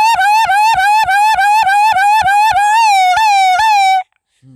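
A voice imitates a fire brigade siren, a loud close wail rising and falling in about a dozen rapid, even cycles that climb slightly in pitch before cutting off abruptly.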